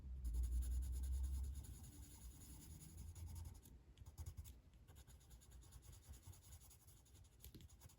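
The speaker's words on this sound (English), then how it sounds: "the Prismacolors really blend really easily over the top of these marker pens" A Prismacolor colored pencil scratches and rubs steadily over alcohol marker ink on paper, faint and close, with continuous soft strokes and brief pauses.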